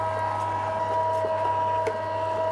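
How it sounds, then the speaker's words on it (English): A meat mincer runs with a steady, droning mechanical hum as spiced meat is fed through for a second pass for droëwors, the motor tone close and even throughout with no talking. "it minces the meat one more time, and it also mixes the spice through"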